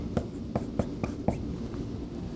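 Marker or chalk tapping and scratching on a board while math is written out, a quick series of about five sharp strokes, close and fairly quiet.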